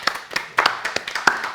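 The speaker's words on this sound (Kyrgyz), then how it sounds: "Кол чабуулар, бири-бирибизди колдоп коелу." A studio audience on a talk show claps for arriving guests: a handful of distinct, fairly close hand claps in an uneven rhythm rather than a full roar of applause.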